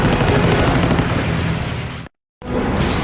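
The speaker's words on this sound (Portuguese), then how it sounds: "uma série de disparos são feitos da metralhadora instalada na cauda da aeronave inimiga" Machine gun fire from the tail gun of an enemy aircraft in a World War II aerial battle over Guadalcanal: a loud, dense, continuous roar of bursts that cuts out abruptly for a moment, then resumes.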